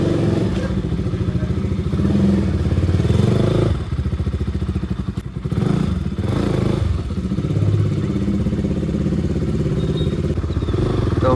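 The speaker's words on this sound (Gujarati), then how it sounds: "આપણે આપણી બાઇક નીકાળીએ" A motorcycle is taken out through a gate and ridden, its engine thrumming loud and close in a steady, throbbing idle-to-cruise drone with brief dips and clatters.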